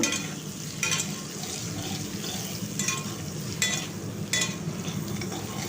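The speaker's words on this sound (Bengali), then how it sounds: "এরপর পটলগুলো দিয়ে দিচ্ছি দিয়ে পটলগুলোকে আমি একটু হালকা ভেজে নেব" Pointed gourd pieces coated in spices fry lightly in a pan, making a continuous soft sizzle. Several brief scraping stirs are spaced through it.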